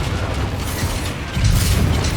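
Confringo explosion spell in the Hogwarts Legacy video game, a loud, rumbling low boom that swells midway through a short burst of dense, noisy blast sound, with no voices.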